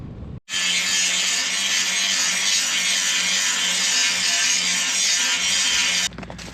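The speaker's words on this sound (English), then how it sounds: "we're going to grind that whole section flat up there" An angle grinder works rust flat on a section of a harvester during the Western Australian harvest, a loud continuous high whine running steadily for about six seconds between short pauses, close up.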